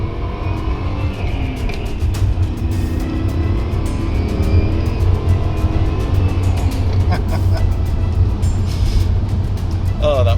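A BMW 535i in Alpina spec, a big heavy 5 Series sedan, drones steadily with a constant engine whine while being driven, loud and continuous throughout.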